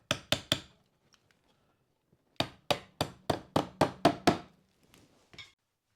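A hammer drives nails into plaster wall lath: three quick sharp strikes, a pause, then a steady run of about eight loud, close knocks and one lighter tap at the end.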